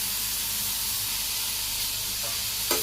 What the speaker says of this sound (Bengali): এখন একটু সুন্দর করে হালকা করে কষাম